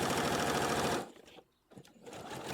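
A sewing machine stitches the seam of doll-sized capri pants for an 18-inch doll, a close, rapid steady whir for about a second before stopping, then faint handling sounds and a brief restart.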